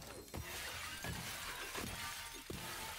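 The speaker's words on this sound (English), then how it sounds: "That's some loud-ass glass." Glass shattering in a survival video game, a run of loud, bright crashes and breaks repeating every half second or so over a dense, noisy background.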